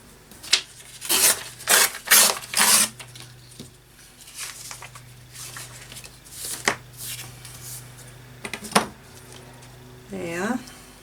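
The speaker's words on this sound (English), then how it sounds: "So let's just rip some paper." Paper torn by hand for a junk journal, several short ripping bursts early on and a few scattered tears later, close and crisp with quiet pauses between.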